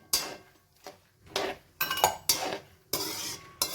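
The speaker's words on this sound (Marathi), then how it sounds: "त्यानंतर काजू घालूया काजू पण फार वेळ परतावा लागत नाही" Cashews being stirred and roasted in a pan for Diwali chivda, a spoon clanking and scraping against the metal in irregular bursts, with a faint sizzle between strokes and no voices.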